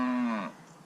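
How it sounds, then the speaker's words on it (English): Cows low loudly and close by beside a river during a fishing trip for Murray cod, one long sustained moo that falls away and fades out near the middle. "these cows are really going off their guts"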